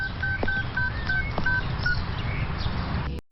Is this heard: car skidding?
no